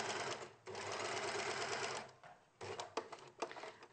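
Sewing machine stitching in fast, steady bursts during a sewing masterclass, running continuously for over a second, pausing briefly, then resuming in shorter stop-start runs, close and clear.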